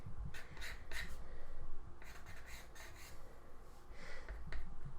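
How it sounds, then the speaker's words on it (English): A regular graphite pencil doodles a character on paper, giving soft scratchy strokes broken by light, irregular taps, close and fairly quiet, with no talking. "This is really satisfying to like draw on because it makes like a fun tappy noise."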